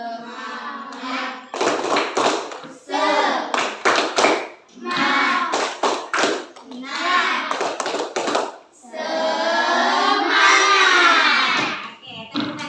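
A classroom group performs a rhythmic spirit clap, bursts of patterned hand clapping alternating with children chanting and voices in unison, loud and close throughout.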